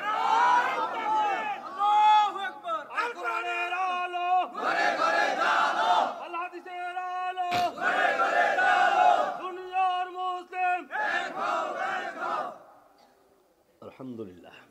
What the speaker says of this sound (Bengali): জোরে সোরে একটু তাকবীর দেন তো দেখি পারেন কিনা দেখি